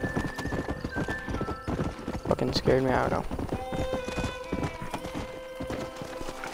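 Hooves clip-clopping and a horse whinnying in Red Dead Redemption, the neigh rising clearly in the middle over steady game sounds while someone talks throughout.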